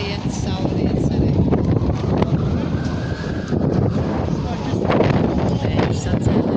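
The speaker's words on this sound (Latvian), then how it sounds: "Vējš sacēlies." Wind rising outdoors near a residential square at sunset, a steady loud broadband rush buffeting the microphone with gusty swells throughout.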